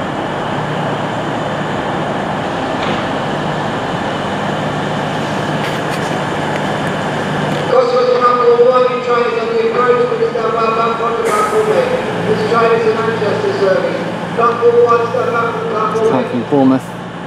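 A train pulls into Birmingham International station with a heavy, steady rumble, then brakes squeal in high, wavering tones as it slows, loud and close on the platform.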